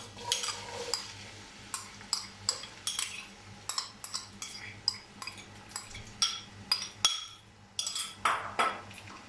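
A spoon clinks and scrapes rhythmically in a pan as onions are stirred in hot oil, a steady series of close metallic taps with a faint low hum beneath.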